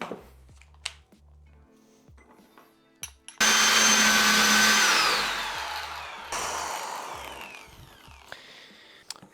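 A drill bores into a broken bolt in a cylinder head, a loud high whine starting abruptly after some clicks and handling, then dropping in pitch and continuing more quietly.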